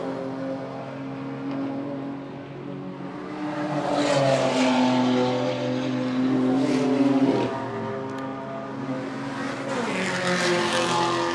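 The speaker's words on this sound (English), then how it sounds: "the current model, which is a 3-litre turbo, as exemplified out there on the circuit by Beric Linton and Stephen Ellery" Race cars with 3-litre turbo engines lapping a rally circuit, sustained engine roar with changing pitch as they accelerate and shift, building louder midway as cars pass, heard at moderate distance.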